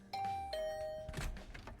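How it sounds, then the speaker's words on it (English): A doorbell in The Hundred Line: Last Defense Academy video game sounds as a clear two-tone electronic chime, the second note held longer, close and alone. "After checking the nameplate to make sure, I rang the bell by the side of the door."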